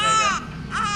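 A newborn baby just out of the operating room cries loudly, two strong wailing bursts close to the listener with a short dip between them.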